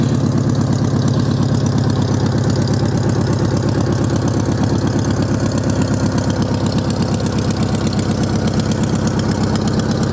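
A 1973 Volkswagen Beetle engine idles with no muffler, a steady, loud, rough putter that carries on alone for the whole stretch.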